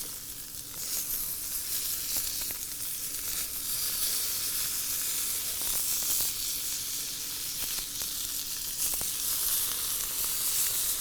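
Chicken livers sizzle steadily on a hot grill, a continuous close crackling hiss with a few soft scraping knocks as pieces are turned; no one speaks.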